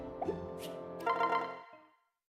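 Save jingle from the Fire Emblem Revelation video game: a short, clean synthesized chime sequence of a few bright tonal notes rising into a fuller ringing chord that fades out within two seconds.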